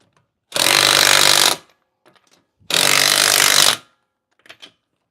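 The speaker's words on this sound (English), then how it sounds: "What's the point of having power tools if you don't use them?" A power torque gun used during a Miata brake pad change fires two loud, close bursts of about a second each with a pause between, followed by a few faint clicks and clatters.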